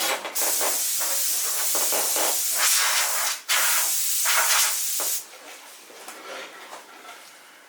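Bursts of hissing spray from a dental tool during a maxillary occlusal splint fitting, loud and close, cut off briefly twice before fading to a softer hiss.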